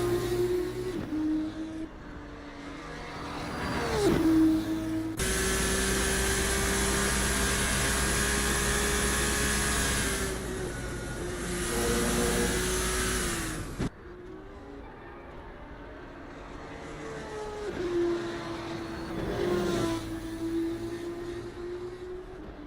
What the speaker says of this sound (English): Sounds of these cars just continue to reverberate around the racetrack.